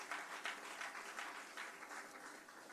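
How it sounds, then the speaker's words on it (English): A townhall audience at a Ministry of Labour and Social Security event claps in a dense, steady patter that stays fairly faint and distant throughout. "Please give her a round of applause."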